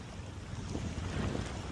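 Strong wind roars across the microphone while sailing a Hobie Compass kayak on open water, a steady broadband rush with low gusty buffeting and faint wave wash, continuous and fairly loud throughout.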